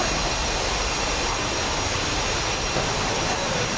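Jet aircraft engine roar during a landing in a flight combat video game, a loud, continuous broadband rush held steady throughout with no talk.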